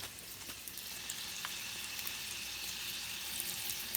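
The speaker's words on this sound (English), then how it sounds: "since the butter melted and the garlic has been sizzling in there for a little bit" Garlic sizzling in melted butter in a pan, a quiet steady hiss and crackle with faint pops throughout, no voices.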